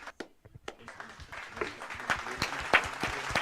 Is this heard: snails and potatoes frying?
no